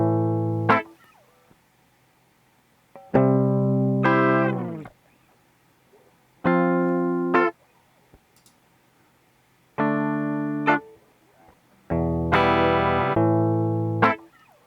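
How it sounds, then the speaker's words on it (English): A dry, clean synth loop plays short sustained chords in separated phrases, each stopping abruptly before a brief pause, with no added effects. "Here's what the loop sounds like with no effects,"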